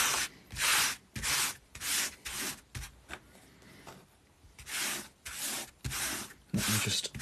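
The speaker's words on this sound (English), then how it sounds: "Let me just scrape that clear." Scraping clear a piece of model railway scenery: a close, steady series of about a dozen rhythmic rasping strokes with brief pauses between them.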